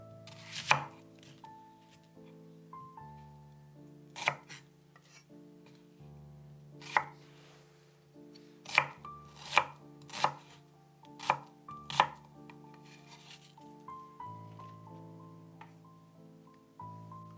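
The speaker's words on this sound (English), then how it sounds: "chop 5 garlic cloves." A knife chops garlic cloves on a board for Mauritian fried noodles, giving a dozen or so sharp, close knocks at irregular intervals over a sustained background of tonal music.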